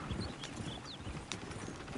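Horses' hooves clip-clop near a coach in an old Western scene, a quick, steady clatter of hoofbeats at moderate distance under a noisy, busy background.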